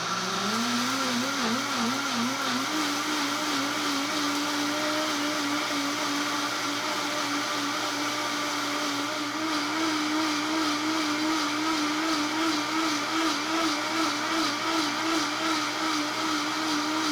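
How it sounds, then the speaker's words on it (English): A Vitamix 780 blender running steadily at its highest speed, a loud sustained motor whine with wavering pitch that holds for the whole stretch without pause. "Now I'm going to press the start key on the Vitamix and I'm going to ramp it up to the highest speed."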